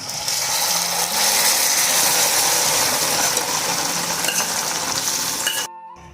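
Garlic fries in oil until brown with a loud, dense, continuous sizzle close up and faint stirring scrapes beneath it. The sizzle cuts off abruptly near the end, leaving near silence.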